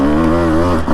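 A Husqvarna TE150 dirt bike's single-cylinder engine chugs loud and close at a steady, labouring pitch while climbing single track in Florence, Arizona, heard alone over a brief moment.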